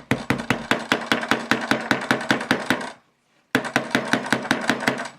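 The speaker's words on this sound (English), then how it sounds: "let's go ahead and use it as a hammer" A tool used as a hammer on a Nokia Lumia 920 phone screen taps rapidly and steadily in sharp, evenly spaced hits, pauses briefly, then resumes at the same quick rhythm, loud and close.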